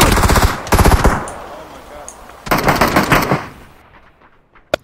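Loud rapid automatic gunfire from a PUBG squad match, two close bursts of machine-gun fire followed by a fading tail and one last sharp shot, with no talking.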